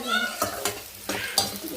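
Chicken frying and being stirred in a large pan, a steady close sizzle broken by several sharp scraping strokes of a utensil against the metal.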